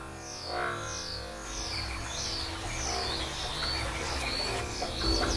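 Tropical weaver birds give repeated, thin, downward-sweeping chirps in quick succession over a low rumbling background, with several calls overlapping toward the end.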